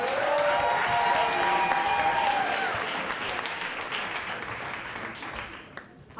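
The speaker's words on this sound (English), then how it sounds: "Y'all make some noise for Katrina." A live audience at a storytelling event bursts into loud, sustained applause with scattered cheers and whoops for the next storyteller, the clapping gradually thinning over several seconds.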